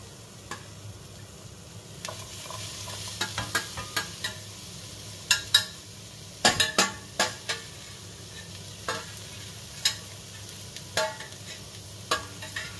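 Capsicum being stir-fried into tofu fried rice in a hot pan, a steady sizzle under repeated sharp scrapes and clacks of the spatula stirring, irregular and close, with no talking.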